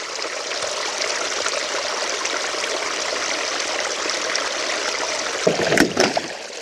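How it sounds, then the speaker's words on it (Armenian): Clean water pours steadily and fills a container in a continuous rushing wash, with a brief louder splashing burst near the end. "Չէ, լավ է լցվեց, մաքուր ջուր է"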